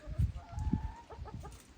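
Chickens cluck softly nearby in short, uneven bursts, a few low murmuring calls followed by quicker higher clucks.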